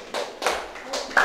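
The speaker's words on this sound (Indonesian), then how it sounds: "tepuk tangan untuk kelompok 3" Classroom applause for a student group, heard as four separate sharp claps spaced unevenly, fairly close and moderately loud, with a brief voice around them.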